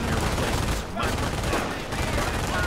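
Machine guns and small arms fire in the World War II strategy video game Company of Heroes, a thick, continuous rattle of rapid bursts with a brief lull in between, all dense and fairly loud.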